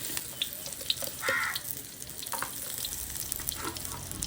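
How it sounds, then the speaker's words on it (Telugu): Finely chopped onions frying in heating oil for a Telangana-style goat liver fry, a steady close sizzle with a few faint clinks and stirring sounds, no talking. "ఈ ఆయిల్ కాస్త వేడెక్కాక ఇందులోకి మనం ముందుగా సన్నగా తరిగి పెట్టుకున్న ఆనియన్స్ని కూడా వేసేసుకుందాం"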